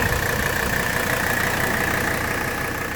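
A 1985 station wagon's engine idles steadily at close range while warming up, a constant low hum with a faint whine, no voices.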